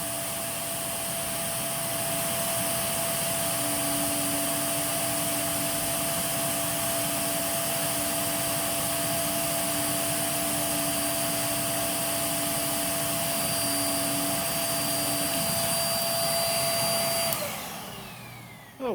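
A Shark vacuum cleaner roars steadily at close range during an airflow test, a constant high-pitched whine that holds for many seconds before spinning down at the end.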